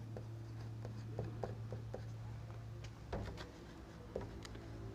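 Chalk or marker scratching out a definition on a classroom board during an electrical machines lesson, a run of short taps and strokes over a steady low hum, with brief thumps and no speech.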